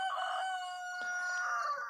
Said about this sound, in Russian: Он кукарекает, кур считает, а другой ему отвечает.